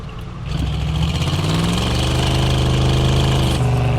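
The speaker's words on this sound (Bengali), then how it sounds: "এই ইঞ্জিনের সাউন্ড ভালো, একেবারে যে ভালো তাও না, আছে" A car engine in the driving game Drive Beyond Horizons starts up and settles into a loud, steady mid-pitched idle rumble with a faint rhythmic knock, running alone.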